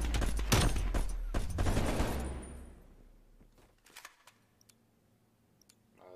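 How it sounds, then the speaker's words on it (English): Burst-fire gunshots from a gun in the video game Black Ops Cold War, dense rapid bursts rattling loudly for about two seconds, then fading into quieter scattered clicks and faint distant pops. "Is this a burst fire?"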